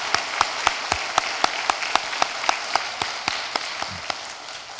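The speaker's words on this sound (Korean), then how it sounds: "우리 박수를 한번 해서 환영하도록 하겠습니다" A church congregation clapping to welcome guests during a Sunday worship service, heard as crisp, evenly spaced claps in a steady rhythm, fairly close and clear.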